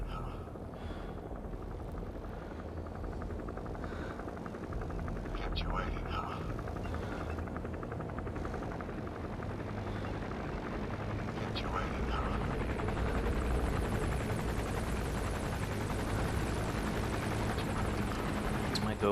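An enemy gunship helicopter in Metal Gear Solid V thrums continuously with loud rotor chop throughout, accompanied by game sounds and someone talking over it.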